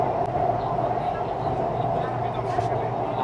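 Kolkata metro train running through the tunnel under the Ganga, heard from inside the carriage as a steady low rumble and hum with constant drone, no clear voices.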